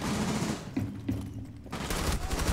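Rapid bursts of automatic gunfire fill a Rainbow Six Siege match, loud and dense with brief dips between volleys, then resuming as continuous shooting.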